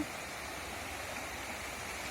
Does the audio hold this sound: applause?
no